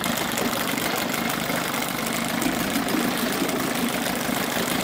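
A 1978 Chrysler 9.9 outboard motor idles steadily, a continuous close, loud chugging engine drone with no pauses and no talk.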